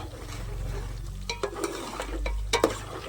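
Food being stirred in a pan over a low gas flame: a soft background sizzle broken by several sharp scrapes and taps of the utensil against the pan, close by, with no talking.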